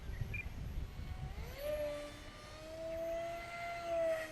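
Small FPV drone with multiple electric motors at full throttle, a steady high whine that rises in pitch and wobbles slightly as the throttle surges, heard at moderate distance without talk.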